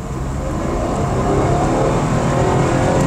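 A Suzuki S-Presso small car with AGS automated gearbox accelerates in third gear, a steady, close engine drone rising slightly in loudness over a few seconds, with no talking.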